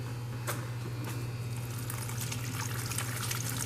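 Water rushing through a Chrysler heater core during a flush makes a steady, close hiss of flowing liquid with a few splashy bursts over a low hum.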